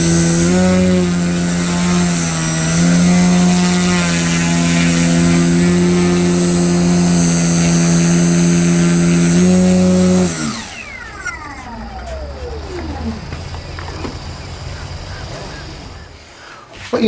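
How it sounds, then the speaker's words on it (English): An Addiction XL RC helicopter hovering nearby, with a loud, steady, high-pitched motor and rotor whine that holds for about ten seconds, then spins down and fades. "I'll bring it up into a hover now"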